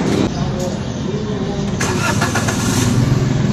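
A car engine is cranked and catches, the starter churning briefly before the motor fires and settles into a rough idle, close by, while someone talks over it.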